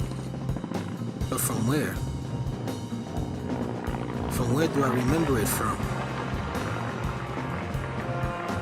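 A movie helicopter's rotor chop and engine rumble run steadily under a voice, loud and continuous throughout.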